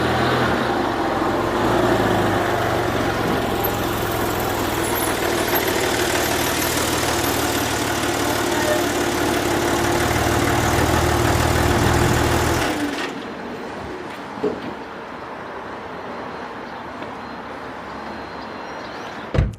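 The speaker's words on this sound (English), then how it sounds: "That's how good the Metzger engine is." A Porsche 996.2 GT3 with its Mezger flat-six idles steadily, a loud, even mechanical hum for about thirteen seconds, then cuts away abruptly to a quiet background with a few faint knocks.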